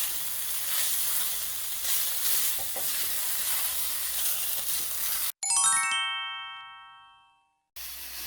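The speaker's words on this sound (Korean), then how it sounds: "우엉이 포도쇼 오일을 두르고 우엉이 맑게 볶아질 때까지 일단 볶으시는 겁니다" Blanched burdock root stir-frying in grapeseed oil gives a steady broad sizzle for about five seconds, then cuts off into a run of bright chime-like tones that fade away before the sizzle briefly returns.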